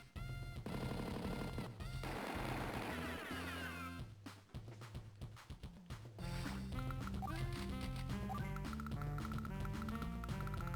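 Retro Advance Wars 2 battle sounds: a chiptune-style unit attack with rattling bursts of rapid-fire gunfire over looping synthesized music, briefly dropping into choppy staccato hits before the steady music resumes.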